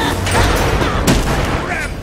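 Vulcan's deployed turret firing in the Smite video game on Xbox One, loud repeated gunfire bursts and booms packed densely in the battle mix, one sharper blast standing out midway amid ongoing combat noise.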